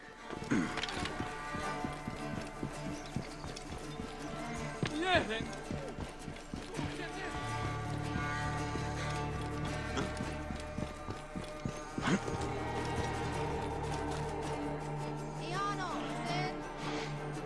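Horse hooves in the Assassin's Creed Origins video game clip-clop in a steady galloping rhythm, close and continuous, with a whinny and background music, while German-speaking voices talk over it.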